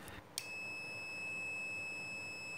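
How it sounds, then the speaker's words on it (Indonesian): A single continuous high-pitched continuity beep from a multimeter testing a microwave oven switch starts abruptly after a click and holds steady, quiet, with no talking. "maka akan terdengar suara beep dari multimeter"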